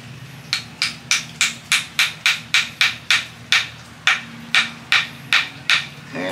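Sharp, evenly spaced hammer blows drive the last wooden dowel into a broken tomahawk handle. The strikes are close and loud, around fifteen in steady succession, with short gaps between them and no talking.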